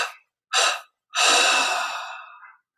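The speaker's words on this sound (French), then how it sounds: "Puis on inspire profondément en expirant 3 fois." Deep breaths close to the listener: a short exhale trailing off, then a sharp inhale and a long, slowly fading exhale, with no talking.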